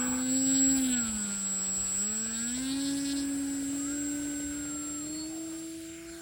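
A Flex Innovations QQ Extra 300 RC plane on a scale takeoff gives a loud, steady electric motor whine that dips and then climbs in pitch, staying fairly close and gradually fading.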